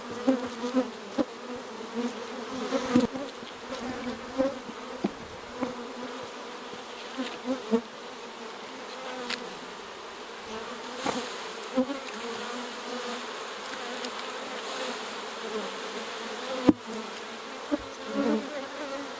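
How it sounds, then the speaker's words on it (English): A steady swarm of honey bees buzzing close by, a dense continuous hum with individual bees droning past, no voices. "Let me try to get all those bees back up in the hive."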